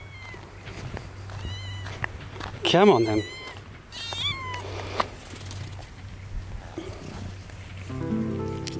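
A stray kitten meows several times at a remote mountain campsite in Greece at night, fairly close, with a person speaking softly to it between the calls.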